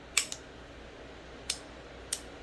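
An AR-15 mil-spec safety selector, painted olive drab, clicks four times at close range in a quiet room, two quick clicks followed by two spaced ones.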